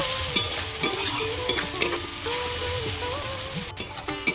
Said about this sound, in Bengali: এবার দেব আমি পেঁয়াজ কুচি এইভাবে আমি ভেজে নেব